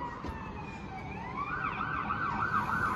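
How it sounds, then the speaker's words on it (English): An ambulance siren wails in the distance in Victoria, first a falling tone then a rising, warbling yelp growing slightly louder over steady outdoor background noise. "I hear an ambulance."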